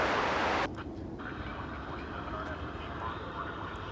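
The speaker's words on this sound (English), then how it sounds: "There's our second MD-11 arrival of the day." An MD-11 jet arriving and touching down at Dallas/Fort Worth Airport, a steady distant engine roar that follows a louder whooshing burst at the start and stays constant under a voice talking.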